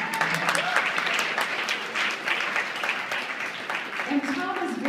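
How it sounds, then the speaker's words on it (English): An audience gives a steady round of applause for about five seconds, many hands clapping together at moderate loudness with no gaps. "give him a round of applause for that"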